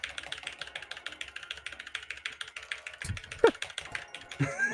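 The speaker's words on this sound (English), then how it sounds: "Someone in chat says poor keyboard." Rapid, close clicking of computer keyboard keys in a steady stream during a League of Legends coaching session, ending with a few heavier thumps and clatters in the last two seconds.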